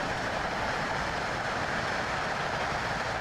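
A train in a train simulator game runs along with a steady, dense rumble and rolling wheel noise at constant loudness, with no speech.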